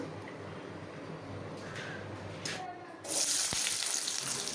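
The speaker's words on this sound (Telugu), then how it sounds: "స్టవ్ వెలిగించుకొని కడాయి పెట్టేశాను ఇప్పుడు రెండు టేబుల్ స్పూన్ నూనె అయితే పోసుకుంటున్నాను" Two tablespoons of cooking oil go into a kadai on a lit stove, starting a faint sizzle that turns into a brighter, hissing fry partway through. Quiet and close, with no talk.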